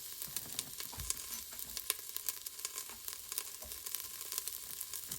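Garlic and vegetables sizzle and fry in a slow cooker pot on its sauté setting, a steady crackling hiss with scattered pops, close and alone with no talk.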